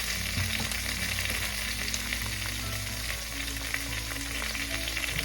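Tomatoes and onions fry with squid adobo in a pan, producing a dense, steady sizzle that stays at an even level throughout, with faint stirring and no talking.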